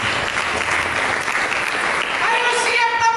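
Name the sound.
church congregation applauding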